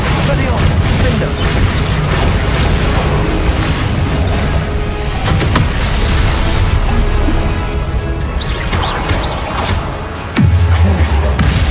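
Confringo blasting spells explode again and again in Hogwarts Legacy, loud booming blasts layered over a dense, constant wall of combat noise, with voices calling out amid the fight.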